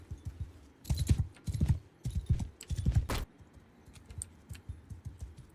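Horse hooves clip-clop in Mount and Blade II: Bannerlord during a night ride, a rapid run of loud near thuds in several bursts, then quieter footfalls as the pace slows.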